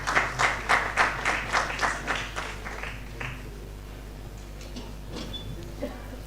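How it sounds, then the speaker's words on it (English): A congregation at a Pan-African theology congress plenary claps in unison for a bishop coming forward, about a dozen rhythmic, evenly spaced claps that then stop, leaving a quiet room with faint scattered sounds. "We clap for Bishop as he comes forward"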